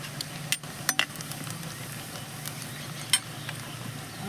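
Onions fry quietly in a pan for jackfruit curry, with a faint steady sizzle, a few sharp clicks of stirring utensils against the pan, and no one talking.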